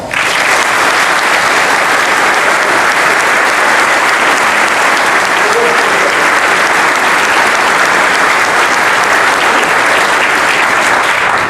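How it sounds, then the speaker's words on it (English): A large church congregation at Mass applauds steadily and loudly, the dense clapping holding at an even level from start to finish with no voices over it. "I would ask the entire assembly to express its approval of these candidates by applause."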